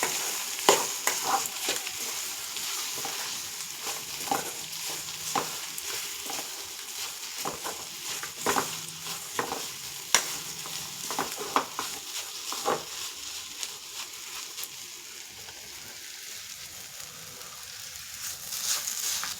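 Mango paste being stirred into a frying coconut chutney in a pan, a steady scraping and soft sizzle with intermittent spoon clicks against the pan, moderately close and alone without voices.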